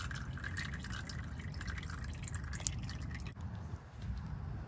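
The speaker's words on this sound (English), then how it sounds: "All the oil from where the filter goes is all coming down and falling into here." Engine oil draining from the oil filter mount of a Honda Pilot during an oil change, a steady low wash of dripping and trickling liquid that continues throughout with one brief dip near the end.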